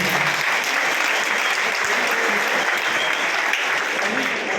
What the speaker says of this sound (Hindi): हमारे माननीय सांसद जी के लिए जोरदार तालियां सभी साथी यहाँ पर